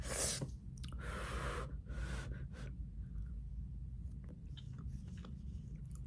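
Someone eats honey chilli potato up close: a few crisp, crunchy bites at the start, then quieter, moist chewing with soft breaths and no talking.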